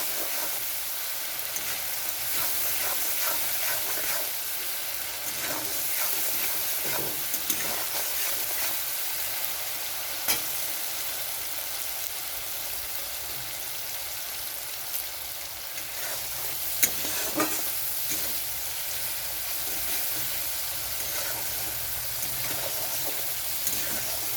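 Fish roe masala with turmeric and Kashmiri chilli powder stir-fried in a pan, a steady close sizzle running throughout with scattered clicks and scrapes of a spatula, no talking.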